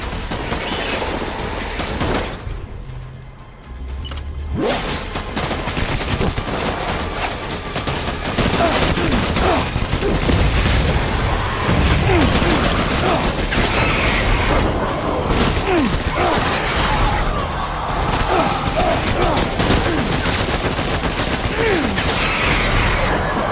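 Sustained heavy gunfire in Death Stranding, a dense, loud, continuous barrage of overlapping shots and booms that carries on with little letup.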